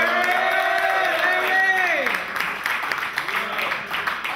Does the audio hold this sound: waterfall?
no